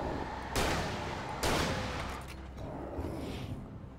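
Two loud, close shotgun blasts from Alan Wake, each a sharp boom trailing into a decaying rumble, roughly a second apart, followed by fainter combat noise.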